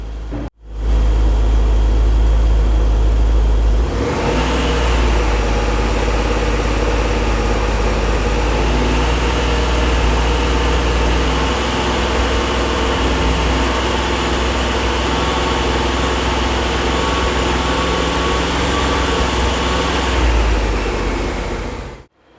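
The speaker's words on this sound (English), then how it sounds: "we take the engine through a few different revs, and Vince does some checking on the Oracle," A loud FPV production engine roars steadily at high power on a test stand during hot testing for about twenty seconds, shifting pitch slightly through different revs, then cuts off abruptly.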